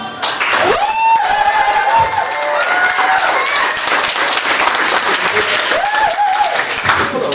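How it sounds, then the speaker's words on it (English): Audience at a startup pitch night cheers and applauds loudly and steadily for several seconds, with whoops and shouted voices rising over the dense clapping. "let me hear your cheer for these people here."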